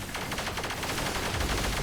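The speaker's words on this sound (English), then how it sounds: "our heavy cannon that starts off shooting 1 by itself is shooting like 11 right now" Heavy cannon fire in the action video game Star Survivor, a dense, continuous barrage of rapid overlapping shots with no gaps, loud and sustained throughout.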